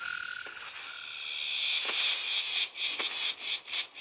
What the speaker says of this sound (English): Would you insects stop babbling?